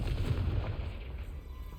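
A Confringo blasting spell explodes in Hogwarts Legacy with a deep, muffled boom that rumbles low and fades over a second or two.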